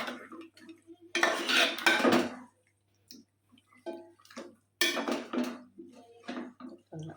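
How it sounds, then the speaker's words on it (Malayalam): Chicken curry with coconut milk is stirred in a pan, with a spoon knocking and scraping against the metal in irregular bursts of clatter separated by short quiet gaps. "തേങ്ങാപ്പാൽ ഒഴിച്ച് നല്ലപോലെ ഒന്ന് ഇളക്കി കൊടുക്കാം കേട്ടോ"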